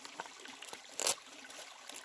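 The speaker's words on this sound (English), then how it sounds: "I'm going to fill that with water." Water trickling and splashing into an Aqua Pouch from Survival Resources outdoors during a drought, a quiet steady dribble with one brief louder gush midway.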